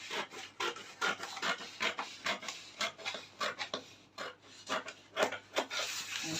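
Scissors cutting a paper pattern piece for a princess-dart bustier, a close, steady series of rasping snips and paper rustles repeating in quick bursts throughout, with no talking.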